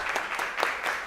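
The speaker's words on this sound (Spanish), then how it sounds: "Damos un aplauso y la bienvenida" Audience applause welcoming a speaker at a university science café talk, a sustained patter of clapping from a small crowd with a few sharper individual claps standing out.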